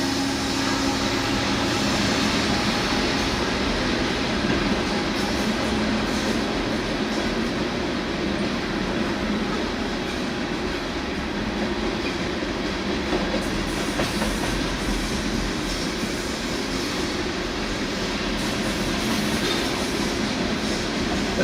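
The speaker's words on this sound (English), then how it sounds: "This is a gigantic train, already up to 180 cars." A gigantic freight train of about 275 cars rolls steadily past nearby, a continuous loud roar of wheels and rattling wagons with faint clicking and occasional squeal, no pauses.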